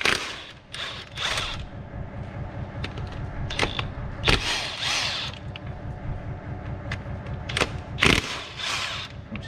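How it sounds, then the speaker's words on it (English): A tool takes bolts out of a tractor's PTO, producing a loud, close mechanical whirring with ratcheting clicks and occasional sharper metallic knocks that runs continuously. "Now, what I can do is I can take these bolts out."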